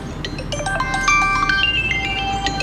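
A mobile phone ringtone plays a bright, rising electronic melody of quick repeated notes, clear and fairly loud over a low background hum, with no talking.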